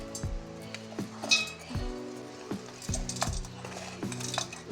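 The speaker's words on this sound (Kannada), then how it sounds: "ಇದನ್ನೆಲ್ಲ ಈಗ ಮಿಕ್ಸಿ ಜಾರ್ಗೆ ಹಾಕ್ತಿದ್ದೀನಿ." Fried boondi is scooped into a mixer jar with repeated clinks and taps of a metal spoon against the jar in an uneven rhythm, close and fairly clear, with light rustling between strikes.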